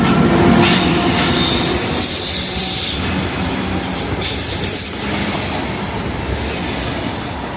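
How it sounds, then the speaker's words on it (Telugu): A train passes close by near the Rhine Falls in Switzerland, a loud steady rumble of rolling wagons with wheel squeal and faint clatter throughout, no talk. "ట్రైన్ వస్తుంది, ట్రైన్ పక్కకు రా."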